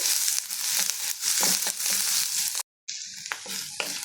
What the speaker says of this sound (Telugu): దాంతోపాటు ఉల్లిపాయ ముక్కలు కూడా వేసేసి కొంచెం సేపు వేగనిద్దాము